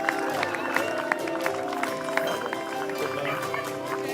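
Crowd cheering and clapping for a finisher crossing the line at the King of Greystones triathlon in Greystones, a steady dense roar with scattered sharp claps over a constant tonal background.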